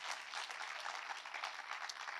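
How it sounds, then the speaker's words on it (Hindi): Audience applause fills the room at a talk, a dense, steady clapping from a crowd that carries on without pause. "लेकिन ताली बजाओ"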